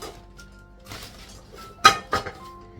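Metal and glass kitchen vessels and utensils clink as they are handled, a faint clatter followed by two sharp, close clinks near the end.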